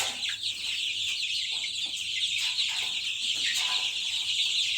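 Soft clucking of young chickens scattered through steady background noise, with occasional brief chirps at a moderate distance.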